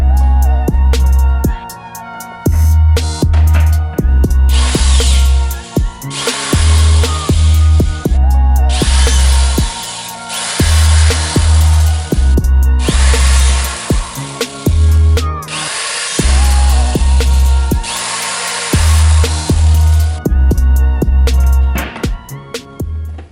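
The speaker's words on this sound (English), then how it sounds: "we got the pilot holes out now, which are just a 5 millimeter boring" A power drill bores 5 mm pilot holes into a 2019 Jeep JL tailgate for a table, loud and close, running in several long whirring bursts separated by brief pauses.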